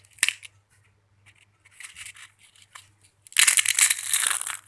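Crispy homemade golgappa (panipuri) puri shells snap and crunch as they are broken by hand: one short crack, then a scattered run of crackling, and finally a longer, denser burst of crunching, close and alone.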